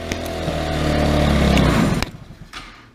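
A Tao Tao 110cc go-kart engine roars loud and steady with the choke held, unable to idle, then suddenly drops off to a rough, sputtering low running near the end.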